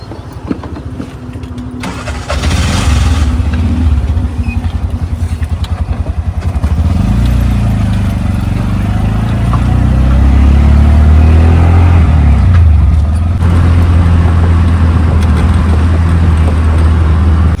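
Auto rickshaw engine in Navi Mumbai Panvel: the small motor starts with a sputter, then putters and revs loudly and steadily as the ride gets under way, with a deep throbbing drone building toward the end.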